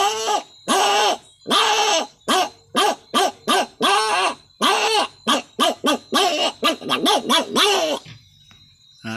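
A man imitates a dog with his voice: a rapid string of loud, close, throaty barks in uneven bursts, some slow and some quick-fire, then the barking stops abruptly into near silence.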